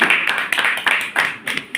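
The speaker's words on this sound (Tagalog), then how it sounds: "Wala ba akong isang palakpak dyan?" Audience clapping comes as a short burst of several close, fairly loud claps in an uneven rhythm, with no one speaking over them.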